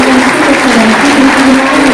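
Steady applause from an audience at an Indonesian independence anniversary celebration, a dense continuous patter of clapping with a faint sustained tone beneath, filling the whole stretch without talk.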